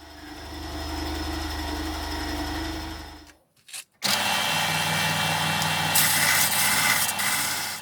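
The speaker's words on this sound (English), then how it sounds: "it's time to drop this bandsaw and move on to the belt sander" A belt sander with a coarse 40-grit belt grinds a chisel made from scrap iron, a steady harsh whir that breaks off briefly before resuming louder and brighter, close and with no talk.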